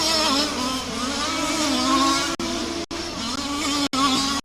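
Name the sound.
STC race cars racing on track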